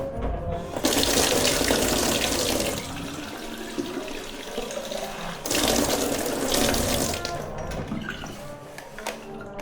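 A tap runs water into a squash bottle, a loud gushing stream that cuts off partway, then starts again and tapers, heard close with no talking.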